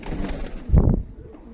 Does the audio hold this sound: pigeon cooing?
yes